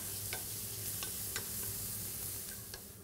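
Onions softening in a pan for risotto, a steady close sizzle with occasional stirring scrapes and no voices.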